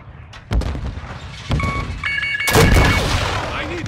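Gunfire in a military shooter video game, with sharp shots and bursts over a continuous rumbling battle background, plus a short beeping electronic tone; no one talks.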